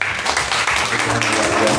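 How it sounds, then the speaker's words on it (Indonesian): A church congregation claps during a worship service, a short burst of dense, crackling applause with a voice over it. "Sekali lagi dong tepuk tangannya."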